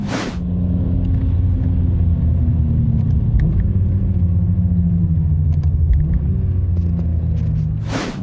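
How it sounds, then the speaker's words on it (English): A BMW E46 M3 CSL sports car engine rumbles loudly and steadily with shifting low tones, revs rising and falling as it rev-matches on downshifts, with no talking. "now that this car has rev matching on downshifts"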